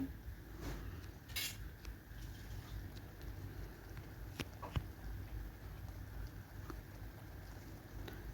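A metal spatula stirs a cooked kundri and chana dal curry in a pot, with faint scattered clinks and scrapes against the metal over a low background hum.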